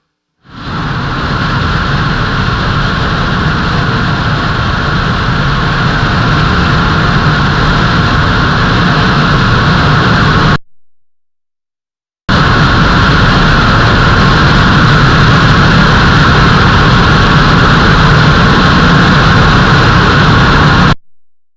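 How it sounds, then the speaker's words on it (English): A rocket engine on a test stand roars with a loud, continuous broadband blast that cuts off abruptly, goes silent for about a second, then resumes at full force before stopping again. "It just goes on and on as a rocket engine should"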